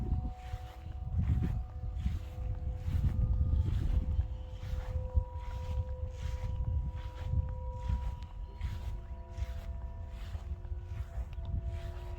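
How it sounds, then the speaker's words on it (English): Wind blowing across an outdoor cemetery, a steady low rumble buffeting the microphone with gusts swelling and easing throughout, close and continuous. "It's very windy."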